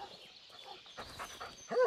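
In the Blair Witch video game, a dog gives faint, soft whimpers and small yips against quiet ambience, ending in a short, slightly louder whine.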